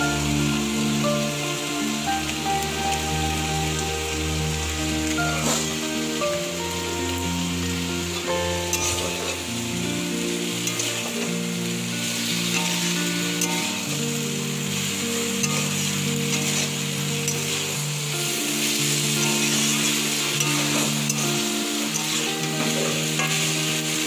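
A steady sizzle with stirring scrapes comes from banana flower and prawn ghonto sautéing in a pan, while a musical backing plays throughout with no voices.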